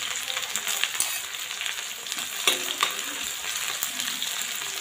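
Shahi jeera, cloves, cardamom, onion, green chilies and bell pepper fry in a pan, a steady crackling sizzle with a few scraping stir clicks, close and fairly loud, no voices.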